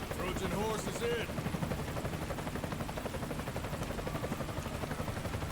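Black Hawk helicopter in the video game Death Stranding, a steady loud rotor drone with rapid pulsing thumps throughout, with a voice speaking over it early on.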